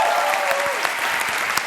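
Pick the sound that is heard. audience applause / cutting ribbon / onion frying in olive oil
audience applause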